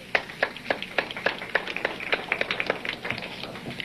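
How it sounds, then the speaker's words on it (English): A small audience claps after a lecture, a sparse round of distinct hand claps at an uneven rhythm, fairly close and with no voices over it. "A round of applause."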